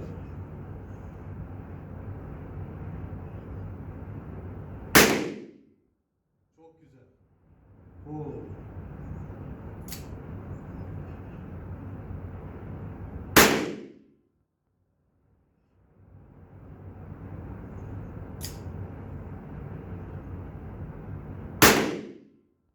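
Sarsılmaz SR38 revolver fired at a range about ten metres from the target, three loud, sharp shots spaced several seconds apart, each cutting off a steady background hum, with a faint metallic click between shots.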